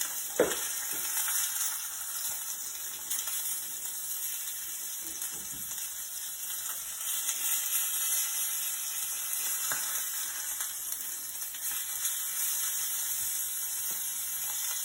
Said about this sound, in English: All right, so I'm gonna flip this salmon.